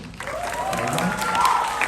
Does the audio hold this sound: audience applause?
yes